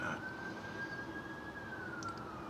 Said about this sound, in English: oh, here come the sirens